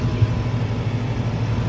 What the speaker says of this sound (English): Car starts. Sounds like it runs good.